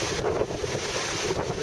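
Small two-to-three-foot waves and wind at Searsport Harbor during Tropical Storm Irene, heard as a steady, loud rush of wind buffeting the microphone over a continuous wash of water, with no voices.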